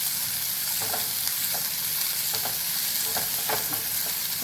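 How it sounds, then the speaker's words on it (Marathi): Red chilli sauce pasta stir-fried in a pan over a high flame, with a constant loud hiss of sizzling and a few soft scraping strokes of the stirring spoon spaced through it, with no talking. "आता हाय फ्लेमवर गरम जास्त मोठ्या गॅसवर परतून घेऊया"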